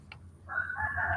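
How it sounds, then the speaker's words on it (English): A rooster crows at night, a single drawn-out call of moderate distance rising over a quiet background after a brief softer note. "I hear the roosters."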